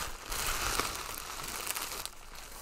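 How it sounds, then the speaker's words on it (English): A Smart Doll being unwrapped from bubble wrap and a plastic bag, close crinkling and crumpling of plastic in continuous bursts with a few sharper rustles, no talk. "let's go remove her from this bubble wrap."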